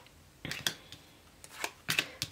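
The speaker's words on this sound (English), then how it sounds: "But I do like to just do a quick shuffle on camera." Tarot cards are given a quick shuffle close by, producing soft, quiet riffling and flicking bursts in irregular clusters with no talking.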